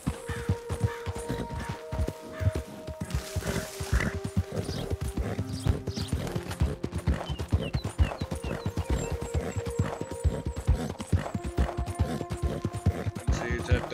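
Horse hooves clip-clop steadily in the Red Dead Redemption 2 video game, giving a brisk, regular rhythm of close, distinct hoofbeats. Game music and ambient tones sound underneath, along with an occasional snort.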